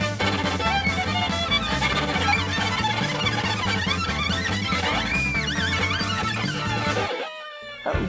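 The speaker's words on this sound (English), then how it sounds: "And he draws out a dark, black, dwarvenite fiddle." Fiddle playing a dense, dark melody over steady accompaniment, loud and continuous for about seven seconds before cutting off abruptly into near silence.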